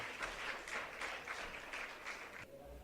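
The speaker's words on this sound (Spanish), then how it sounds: "Denle una ofrenda de palmas al Señor." A church congregation claps together in a steady burst of applause lasting a couple of seconds before it stops abruptly, heard from a distance in a reverberant room.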